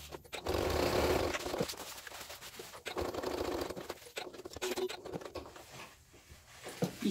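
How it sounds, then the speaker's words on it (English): A sewing machine stitches together the fabric sides of a bag, running in a few loud, steady mechanical bursts separated by short pauses, close and alone without voices. "So I'll just go ahead and stitch that."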